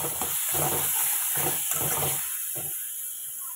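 Spice masala with salt, turmeric and a little sugar sizzles and fries in a pan, a steady loud hiss broken by rhythmic bursts as it is stirred, fading softer toward the end.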